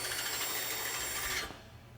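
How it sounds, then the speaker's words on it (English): A 7/16 step bit drilling out a hole in the back corner of a metal machine cover system: a steady, loud, rasping grind that runs continuously for about a second and a half, then cuts off abruptly, leaving only quiet background hum. "First, we're going to start by opening up one of the holes in the back corner of our cover system with a 7/16 strobe."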